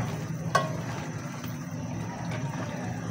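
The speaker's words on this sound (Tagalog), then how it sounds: "At hintayin po natin na maluto ng todo yung ating chicken." Chicken sizzles and fries steadily in a pan, with a sharp stir or utensil scrape near the start and a continuous crackling hiss throughout, no talk.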